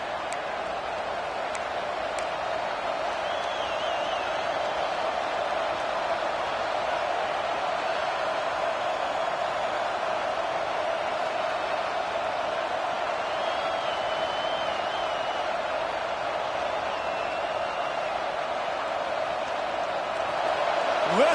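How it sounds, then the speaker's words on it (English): A constant roar of a large stadium crowd in the video game College Football 26, loud and sustained with a steady hum, no distinct cheers standing out. "Listen to this crowd just shaking the girders of this place"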